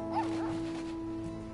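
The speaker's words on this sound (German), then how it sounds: "Ach ja, der Hund." In the Life is Strange 2 video game a dog gives a short yip or bark near the start, followed by soft whimpering over a steady background music drone.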